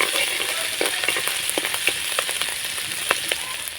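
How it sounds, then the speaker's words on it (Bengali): Chopped ginger and green chili fry in hot oil, a steady close sizzle with light crackles and pops throughout. "আদা কুচিটা হালকা ভেজে নেব আমি"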